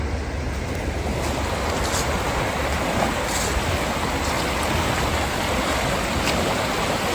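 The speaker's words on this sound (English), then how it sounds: "Some people like the sounds of the river flowing." Conneaut Creek flows at night as a steady, full rushing wash of moving water. It stays even and unbroken from start to finish, with no voices.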